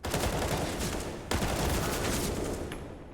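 Sustained rapid gunfire from a Counter-Strike esports match at DreamHack Masters Spring 2021, dense overlapping rifle bursts and taps running continuously at high loudness, with a sharp burst of shots about a third of the way through.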